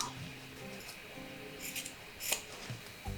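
Scissors snip through the corner of Tilda cotton fabric with a few crisp, close cuts, quiet against a faint room background.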